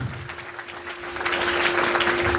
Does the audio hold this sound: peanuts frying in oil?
no